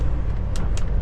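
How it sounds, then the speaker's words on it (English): A semi truck's engine drones low and steady after an upshift to 9th gear on the road through Amish country in Ohio, with a brief airy hiss or two on top. "a downshift to 8th, just to get up this hill. And now I can upshift to 9th"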